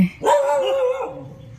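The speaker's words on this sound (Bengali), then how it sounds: "ডগেগুলো এমন করে চিল্লা উঠলো আমি তো ভয় পেয়ে গেলাম" A single drawn-out yelp or howl from a street dog in Goa, close and fairly loud, rising sharply then trailing off.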